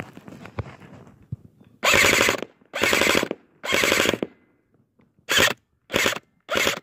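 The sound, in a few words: airsoft gun firing on full auto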